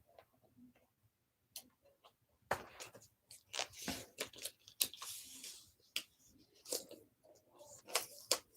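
A vinyl sheet is peeled in short bursts of crackling, sticky tearing noises, irregular and close, with quiet pauses between pulls while making Father's Day masks and glasses.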